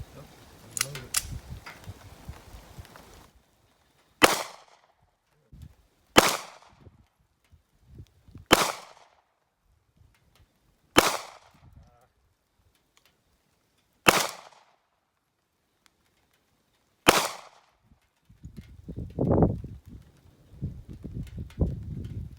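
Single shots from a Ruger LCP .380 pistol at an outdoor gun range, six sharp cracks spaced a few seconds apart, each followed by a short ring, with low talk before and after.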